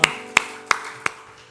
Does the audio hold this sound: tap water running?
no